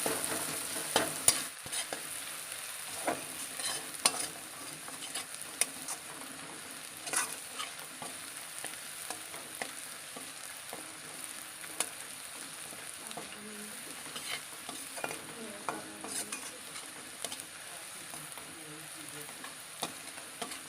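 Egg curry masala with turmeric sizzling in hot oil in a Bengali kitchen, with soft scraping stirs now and then; steady close frying throughout, with no talk.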